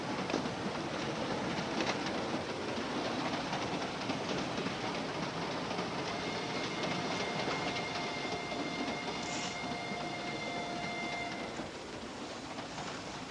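A 1946 radio drama sound effect: a train rumbles steadily along the tracks with a constant rattling roar and faint squealing tones, continuous and close, with no voices.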